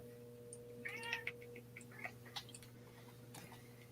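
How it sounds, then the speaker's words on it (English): A house cat meows several times close by, short harmonic calls over a steady low electrical hum, with faint ticking in the background. "I hear kitty."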